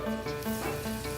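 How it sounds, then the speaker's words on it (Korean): Steady, loud crackling sizzle of starch-coated sailfin sandfish frying in hot oil over high heat, a dense continuous bubbling close up with no voices. "맛있는 소리를 내며 튀겨지는 도루묵."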